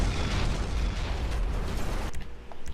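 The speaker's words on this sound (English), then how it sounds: "Explosion." Explosion in GTA, a loud sustained roaring blast that rumbles for about two seconds before cutting to quieter debris and crackling.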